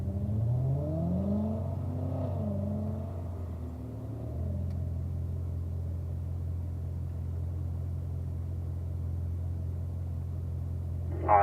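A Corvette on a braking exercise run at a driving school accelerates hard, its engine rising in pitch through a couple of gears before settling into a steady loud drone, with a brief sharp noise at the very end.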